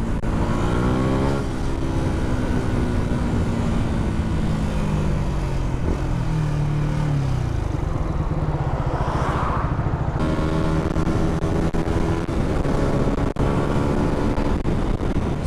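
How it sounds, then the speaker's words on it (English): Road traffic passes a rider on a Yamaha MT125, with a constant engine and wind drone and vehicles sweeping past in a long continuous stretch. "And we meet the traffic again."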